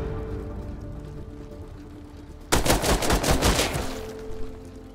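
Automatic AK rifle fire in the game Rust erupts partway through as a loud, rapid burst of shots after a stretch of quiet background.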